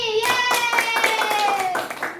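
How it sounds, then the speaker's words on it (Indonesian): Clapping for Dini in a classroom during a teacher's supervision session: a short burst of group hand claps under a voice that carries over them. "Tepuk tangan untuk Dini."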